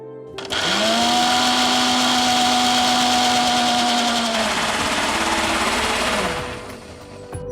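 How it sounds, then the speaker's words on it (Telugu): A mixer grinder whirs loudly at high speed for several seconds grinding with water, its pitch steady before slowing and winding down. "ఇప్పుడు మిక్సీ పట్టేసుకుందాం."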